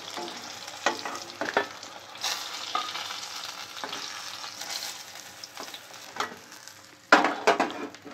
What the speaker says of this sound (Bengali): তেলে কপিগুলো ভেজে নেবো।